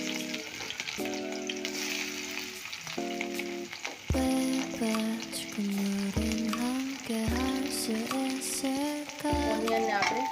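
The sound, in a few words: onions frying in oil for mixed veg paneer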